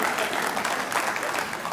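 Steady applause from a large audience at an Independence Day gathering, dense continuous clapping with no pauses, fairly loud and without talk over it.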